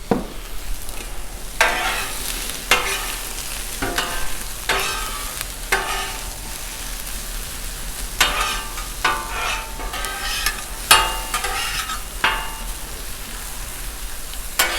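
Philly cheesesteak filling of meat and peppers sizzles steadily on a Blackstone griddle, close up, broken by repeated sharp scrapes and taps of a spatula stirring the food at irregular intervals.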